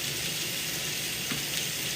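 Water from boiled potatoes pours steadily into a kitchen sink while the tap runs, a continuous close hiss and splash with no talking.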